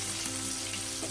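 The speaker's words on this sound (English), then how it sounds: "We're still on the frying process." Jerk chicken pieces fry in a pan with a steady, dense sizzle and crackle, close up and constant throughout, with no voices.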